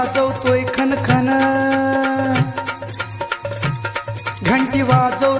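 A bicycle bell rings repeatedly in bright metallic bursts, mixed into a loud, busy Marathi song with a steady beat.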